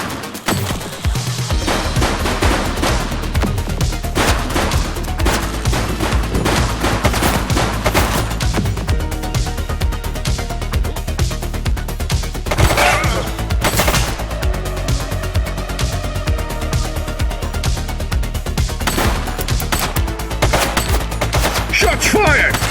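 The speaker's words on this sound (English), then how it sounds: "Shots fired!" Gunshots in The Precinct police game, with loud, sustained bursts of gunfire and scattered sharp cracks over a dense, constant din of game sound, close and intense throughout.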